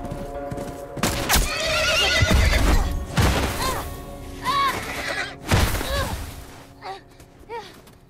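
A horse whinnies loudly several times amid clattering hooves and bursts of gunfire in The Last of Us Remastered, with excited voices in the mix.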